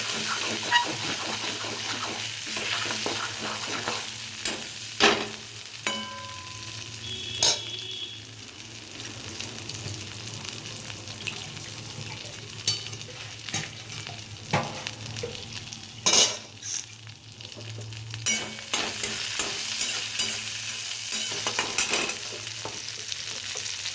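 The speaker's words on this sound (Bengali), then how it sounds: "গোটা জিরে, আদা বাটা, জিরের গুঁড়ো সব দিয়ে একসঙ্গে নেড়ে নিচ্ছি একটু ভালো করে।" Cumin seeds, ginger paste and cumin powder stirred in hot oil in a pan, a continuous close sizzle with repeated spatula scrapes and occasional metallic clinks throughout.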